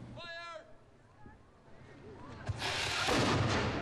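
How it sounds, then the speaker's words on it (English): An old cannon fires its noon shot beside the historic Bastion in Nanaimo, a sharp boom followed by a broad, loud rumbling blast that rolls on for over a second, with talk heard beforehand. "The firing of the old cannon is a noon fixture in Nanaimo."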